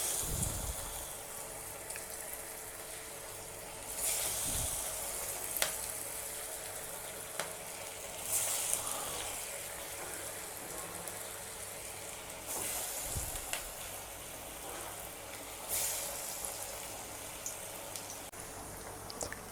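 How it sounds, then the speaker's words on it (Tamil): Masal vadai, patties of chana dal batter, deep frying in hot oil in a kadai over a medium flame, giving a steady soft crackling sizzle with faint bubbling throughout, close and fairly quiet with no talk. "வாணலில் எண்ணெய் காஞ்சிருச்சு. இப்போது எப்போ போல் உள்ள கையில் வச்சு லைட்டாக தட்டி போட்டுடலாம்."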